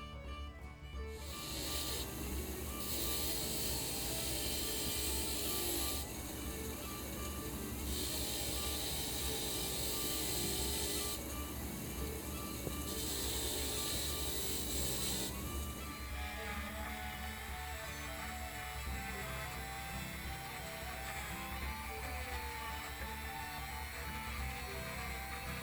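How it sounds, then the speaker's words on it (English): A powered wire wheel scrubs corrosion off a badly corroded vintage screwdriver, giving a sustained harsh hissing grind throughout with a steady motor drone underneath and periodic surges as the metal is pressed against the brush. "Let me run this on the wire wheel,"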